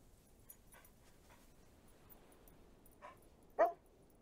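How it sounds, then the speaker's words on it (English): A dog in the video game Farewell North barks a few times, faint short yips early on and one louder, sharper bark near the end, against quiet ambient game sound. "I love making him bark."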